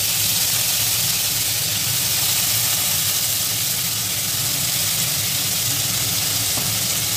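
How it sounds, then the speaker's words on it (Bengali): Dried onion frying in a spoonful or two of white oil in a wok gives a steady, dense sizzle and hiss that holds evenly throughout, with no voices. "এবার তেলের মধ্যে প্রথমে আমি দিয়ে দেবো শুকনো পেঁয়াজ"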